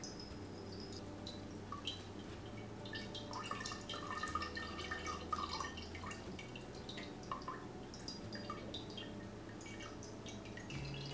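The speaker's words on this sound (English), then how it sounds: "So the whey is all in here and running through the coffee filter." Whey from strained yogurt drips through a coffee filter, a soft, close, steady patter of small drops over a faint low hum, quiet and continuous with no talk.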